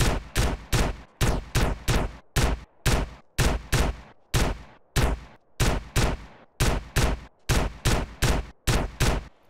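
A sniper rifle fires in GTA San Andreas, with about eighteen loud, sharp shots at a steady rapid pace of roughly two per second. Each shot has a short decaying tail, and nobody speaks.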